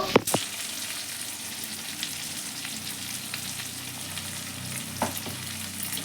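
Potatoes and onions with turmeric fry in a pan, giving a steady close sizzle with a couple of sharp clinks of a utensil near the start and another around five seconds in.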